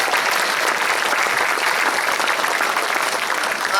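Audience applause at a high school varsity sports awards ceremony: a brief, even burst of many hands clapping together at steady loudness.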